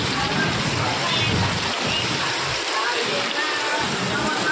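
Heavy rain pours down in a dense, constant wash of patter and splashing on surfaces, loud and close, with a person talking through part of it.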